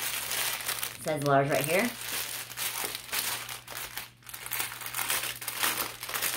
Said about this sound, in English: I know some people say they get, like, annoyed with the crinkling, but it is what it is.